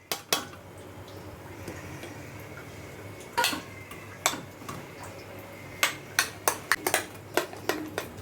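Eggs beaten with chopped onion in a bowl for an omelette, heard as scattered sharp clinks and taps of a utensil against the bowl, sparse at first and then quicker near the end, against a quiet background.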